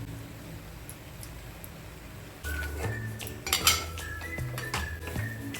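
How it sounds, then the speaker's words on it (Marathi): Spoon stirring sugar and cardamom into apricot sheera in a metal pan: quiet background at first, then scraping and clinking of utensil against pan, faint and close, with a few sharper knocks. "तर आता याच्यात आपण साखर मिक्स करून घेऊ"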